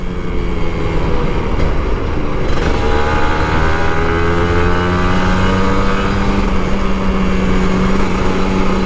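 A Kawasaki Ninja RR 150 two-stroke motorcycle revs up, loud and close, its engine pitch climbing through several rising sweeps over steady wind and road rumble.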